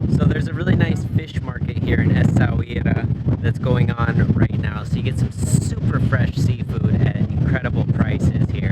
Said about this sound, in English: it's quite windy if you can't tell